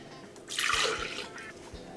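Key lime juice poured from a glass into a blender, a soft splashing trickle that swells in the middle and then fades, close and alone.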